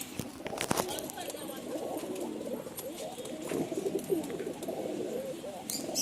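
Pigeons coo softly at a seller's loft, their low rolling calls repeating under steady background noise with faint voices nearby.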